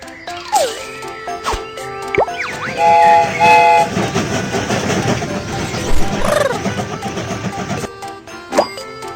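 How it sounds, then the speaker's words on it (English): A cartoonish train horn toots and wheels clatter as the train starts moving, with bright game sound effects chiming throughout. "The train is about to start. Let's set off!"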